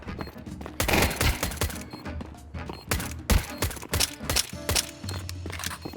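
Rapid bursts of video game gunfire crackle repeatedly in a busy, echoing mix, with shots clustered irregularly and a low rumble underneath.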